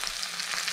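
Butterfly chicken is being turned in hot frying oil, giving a continuous bright sizzle and crackle with faint pulsing bubbles, close and steady throughout with no talking.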